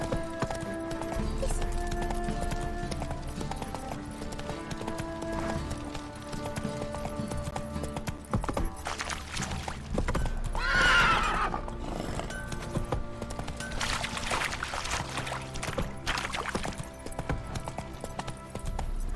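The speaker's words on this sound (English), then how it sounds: "Whoa there, Roach." In The Witcher 3, a horse gallops with a loud, steady hoof rhythm and neighs, heard over a swelling orchestral score.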